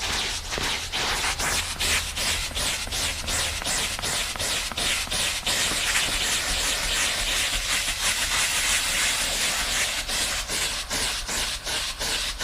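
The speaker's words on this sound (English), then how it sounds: "you can see I'm giving it a hell of a workout here with the steam" Continuous loud hiss of a steam cleaner worked over the interior upholstery of a 1990 Honda Civic, with rhythmic scrubbing strokes and pulses breaking the steady steam jet.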